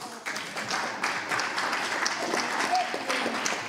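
A church congregation bursts into sustained applause to acclaim the Lord, a dense wash of many hands clapping together from a large room, with voices mixed in underneath.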